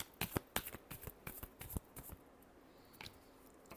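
Tarot cards being shuffled by hand: a quick run of crisp, close flicks and riffles for about two seconds, thinning to a few soft taps and then near quiet.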